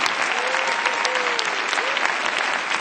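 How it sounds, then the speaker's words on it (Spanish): Loud, dense applause from a debate audience at the Ciudad de las Ideas 2010 conference, continuous clapping throughout with a voice speaking faintly over it. "Un aplauso para todos ellos"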